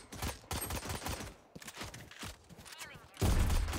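Rapid gunfire in a ranked Valorant match, a string of sharp shots in quick bursts, moderately loud with brief pauses between them, ending in a heavier burst of noise.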